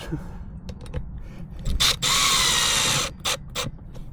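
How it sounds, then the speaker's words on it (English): Cordless power drill driving screws while installing a replacement outdoor faucet and valve, heard as a sustained whirring burst of about a second plus several shorter spurts, close and loud, with faint handling clatter around it. "Go ahead and install some screws."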